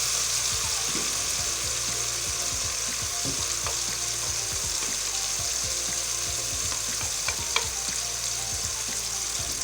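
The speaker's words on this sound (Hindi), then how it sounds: "1 मिनट के लिए टमाटर को भून लेते हैं" Tomatoes fry steadily in a pan for aloo keema, giving a continuous dense sizzle with occasional scraping stirs and small clinks, close and even throughout.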